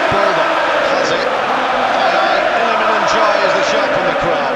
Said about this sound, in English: Ahmedhodžić is the shout from the crowd